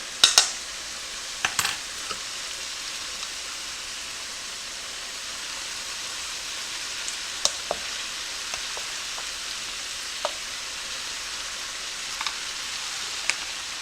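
Cooked basmati rice sizzles and fries in a pan with ground beef, giving a steady hiss broken by a few stirring scrapes and small clatters, with no talking.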